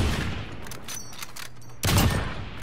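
Odin rifle gunfire in a video game, a quick burst of heavy shots with a louder blast near the end, close and punchy with no talk.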